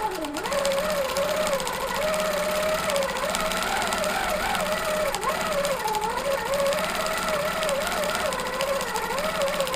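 Home sewing machine stitching a dense pebble filler in free-motion quilting, its motor whirring steadily and loudly for the whole stretch, pitch wavering slightly as stitching speed shifts.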